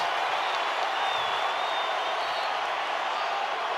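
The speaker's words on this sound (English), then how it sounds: "Crowd engaged." Basketball arena crowd at a college game, San Diego State against Boise State, roaring and cheering in a dense, steady wall of noise that fills the whole moment without letup.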